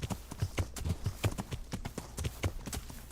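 Horse hooves clip-clop in the video game Kingdom Come: Deliverance, a quick, steady rhythm of close, fairly quiet hoofbeats repeating throughout.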